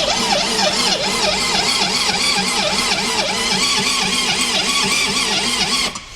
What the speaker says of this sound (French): est-ce que le démarreur fonctionne?